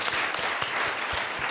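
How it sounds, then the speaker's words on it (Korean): A Korean church congregation at a Sunday service in Bloomington claps together in a steady, moderately loud round of applause throughout. "우리 박수로 한번 감사 인사 전하겠습니다"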